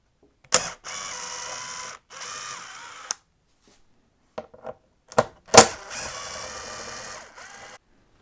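Torx T25 fasteners being backed out of a Touratech Tall Touring windscreen on a BMW F850/F750GS motorcycle, heard as close bursts of power-driver whirring and ratchet clicks separated by short pauses.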